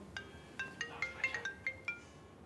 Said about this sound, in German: Und siehe da, ein paar Minuten später klingelt's.